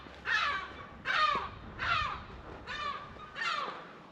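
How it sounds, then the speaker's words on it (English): A seagull on the coast at Burntisland gives five harsh, raspy calls at an even pace, close overhead and loud against faint background noise. "This seagull wants to kill me probably."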